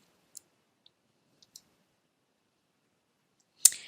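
A computer mouse gives a few faint, isolated clicks spaced across a quiet stretch, followed by one sharper, louder click near the end, with no voices.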